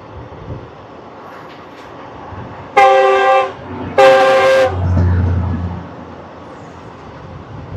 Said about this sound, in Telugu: ట్రాక్ మెయింటెనెన్స్ వెహికల్ అయితే వెళ్తుంది.